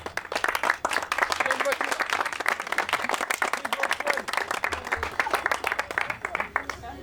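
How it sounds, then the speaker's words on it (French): Audience at a car show award ceremony gives a round of applause, many hands clapping in a dense, steady patter that rises and falls over several seconds. "Panda, elle a récupéré, on peut l'applaudir."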